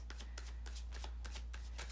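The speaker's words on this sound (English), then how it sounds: "I'm going to shuffle one more time" Tarot cards are riffled and shuffled in quick, papery bursts at an even rhythm, close and quiet, over a steady low hum.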